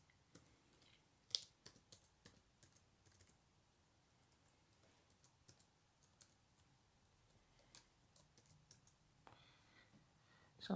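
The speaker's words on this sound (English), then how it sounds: "It's hard to do in one hand, actually typing." Typing on a laptop keyboard with one hand, a slow, uneven run of quiet key taps and clicks with pauses between bursts, close and soft in an otherwise quiet room.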